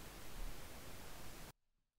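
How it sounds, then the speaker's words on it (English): Steady pink noise generated in SuperCollider plays from the left speaker, a flat continuous hiss that cuts off abruptly after about a second and a half, leaving near silence. "if we play our pink noise again, it shows up on the left speaker."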